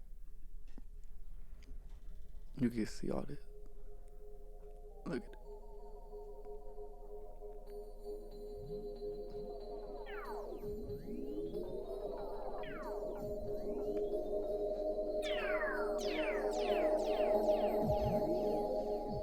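A swelling synth tone fading in with delay echoes, a room reverb and slow sweeping filtered tails layers up over time, with brief clicks early on and a voice speaking quietly.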